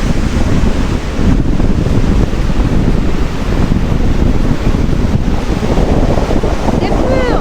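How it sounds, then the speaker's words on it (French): Ocean waves surge and break along the rugged Brittany coast under steady, buffeting wind noise, a continuous close roar with no distinct pauses. "Regardez-moi ces vagues!"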